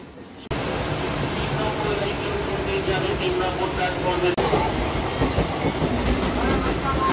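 Steady rumbling train noise fills the clip, with rhythmic clattering of wheels on the rails, heard from inside a moving carriage.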